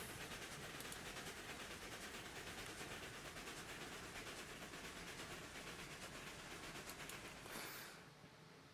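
A fast train running in the Railroads Online video game, with a steady loud rolling roar and rapid clickety-clack of wheels on rail, continuous until it drops away near the end.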